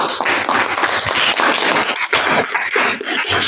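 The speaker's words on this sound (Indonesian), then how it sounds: "Oke, tepuk tangan." Applause from a class of students after a group presentation at a teacher-training session, a dense, steady patter of many hands filling the room close by, with a brief dip midway.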